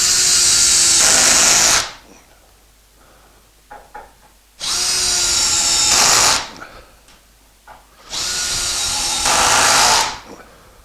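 Three loud bursts of a power drill driving screws into wood while fixing a desk pedestal plinth, each whirring for about two seconds with short gaps and faint handling clicks between.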